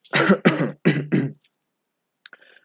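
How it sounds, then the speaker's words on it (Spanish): Four quick, raspy throat-clearing coughs in a row, close and fairly loud, followed by silence and a faint rustle. "toser para aclararse la garganta"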